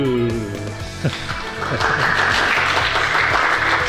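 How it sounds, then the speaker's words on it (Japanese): Studio audience applause for a female Shorinji Kempo practitioner making her debut, a steady clapping wash building after a brief voice at the start. "拍手。"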